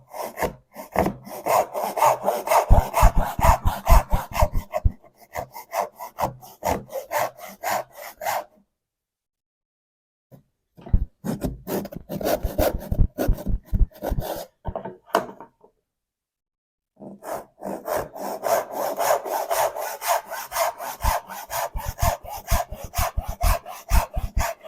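Hand saw cutting wooden tenons, rhythmic back-and-forth rasping strokes close up in three long bursts separated by brief silences.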